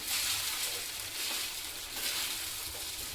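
A chili and sabudana mixture sizzles steadily in a pan while being stirred for khichdi. The bright, continuous frying hiss swells slightly with each stir, and no one speaks.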